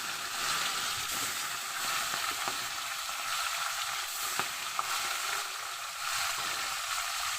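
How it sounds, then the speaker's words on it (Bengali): Fish sizzles steadily in hot oil in a home kitchen, with a continuous close crackle and occasional sharper pops and spatters throughout, no talking. "একবারে আমার সব মাছগুলো ভাজা যাবে না তাই আমার দুবারে ভাজতে হবে"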